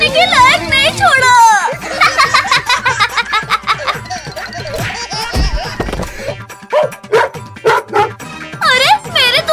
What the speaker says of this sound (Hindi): टोनी भाग, नहीं तो ये कुत्ता आज हमें नहीं छोड़ेगा।